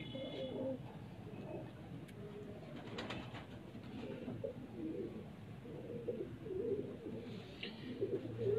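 Pigeons, including a prized blue breeder pigeon, coo softly on a rooftop loft in Punjab, with repeated low rolling coos over a faint background hum and occasional light ticks.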